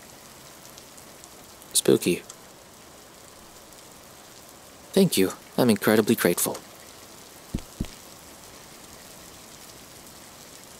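Steady rain falls in the Jasei no In video game, a soft continuous patter lying under the whole scene while voices talk over it in short bursts.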